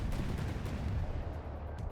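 Dense, continuous low rumble of artillery fire from a volley of mortars in the naval combat game From the Depths during a battleship tournament match, steady and heavy with no clear separate blasts and no talk.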